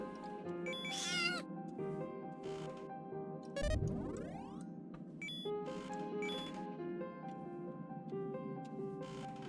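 A cat character in a platform video game meows several times, short bright rising and falling cries set over a soft looping game music background, with no speech.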